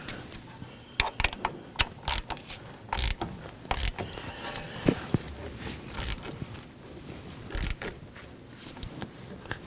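Ratcheting and metallic clicks from tightening an 11 mm brake hose bolt on a 2013-2019 Nissan Sentra, a close, irregular series of sharp mechanical clicks and clatters with no talk.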